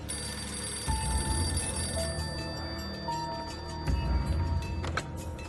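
A telephone rings indoors in repeated bursts of a bright, trilling bell, moderately loud against faint background noise, with a few soft knocks and movements between rings.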